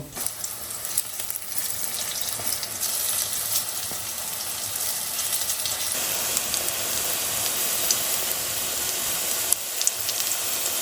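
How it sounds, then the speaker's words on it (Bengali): Drumstick-flower fritters sizzle and crackle in hot oil, a steady hiss with occasional pops, close and continuous, without speech. "একটা একটা করে বড়া তেলের মধ্যে দিয়ে ভেজে দেবো"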